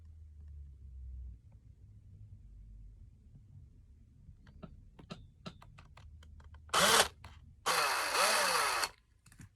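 A few light taps and clicks lead into two short, loud bursts of a power drill whirring through rubber, close up, with a low rumble beneath.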